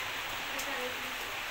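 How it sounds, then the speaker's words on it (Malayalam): Heavy rain falls steadily outdoors during home cooking, producing a dense, even hiss that stays constant from start to finish without any voices. "നല്ല മഴ പെയ്യുന്നുണ്ട് കേട്ടോ"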